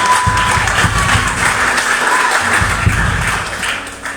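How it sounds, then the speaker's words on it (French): A church congregation applauds steadily and loudly during a sermon, a dense wash of clapping that holds throughout and fades slightly at the end. "Acclamons Jésus-Christ de Nazareth."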